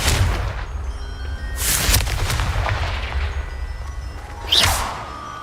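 Fiery Confringo spell blasts in the Hogwarts Legacy video game: three loud explosive bursts with crackling tails over a low rumbling bed, spaced a couple of seconds apart.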